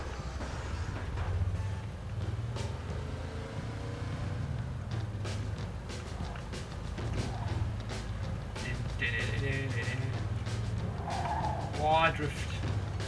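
A car drifting in the Mafia 2 video game: steady engine drone with rising tire squeals and skidding toward the end, under the steady talk of a player.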